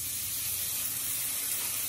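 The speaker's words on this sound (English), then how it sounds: "Hear it sizzle? Gotta get that skillet hot, right?" Bacon sizzling in a hot skillet, a steady dense hiss and crackle, close and fairly loud, with no talk over it.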